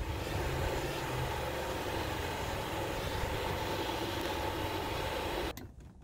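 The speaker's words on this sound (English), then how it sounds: "I'm gonna hit this with my favorite tool, the torch" An oxy torch roars steadily while heating a rusted seat bolt on a 1997-2001 Jeep Cherokee XJ, a constant broadband hiss and rumble close by that cuts off abruptly near the end.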